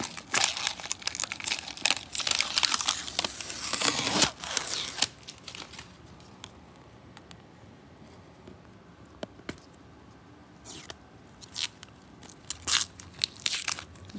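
Crinkly plastic covering peeled off a free-form geode resin piece, giving dense crackling and crumpling for the first few seconds, then quieter scattered crinkles and snaps with gaps of near silence.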